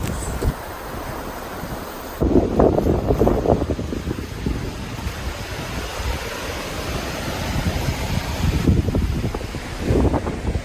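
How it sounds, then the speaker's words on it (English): Strong wind buffets and roars, with gusts rumbling against the microphone in bursts over a constant rushing background. "It's crazy windy."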